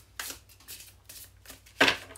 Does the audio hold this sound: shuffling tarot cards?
yes